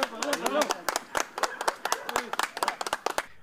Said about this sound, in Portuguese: os policiais aplaudiram a prisão.